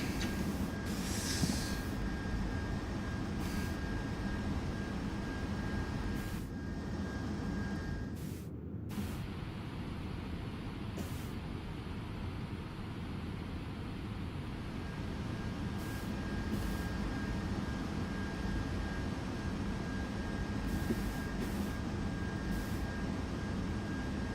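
A video game aircraft coming in to land, heard as a steady, unbroken roar of engine and wind noise at an even level throughout, with no voices.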